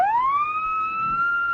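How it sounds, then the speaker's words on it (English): A police siren gives a short test blast, one steady rising-then-held wail close and loud with no talking, in an old-time radio drama scene. "real police siren, huh?"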